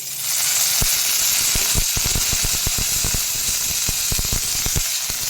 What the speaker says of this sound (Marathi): तर थोडंसं अगदी चमच्यावर तेल घालून मिरची भाजून घ्यायची